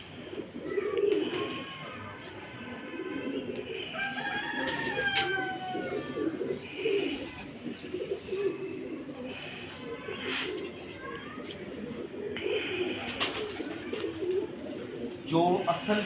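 Pigeons coo repeatedly and softly at mid distance in a home loft, their low throaty calls overlapping with occasional higher chirps while people talk steadily throughout.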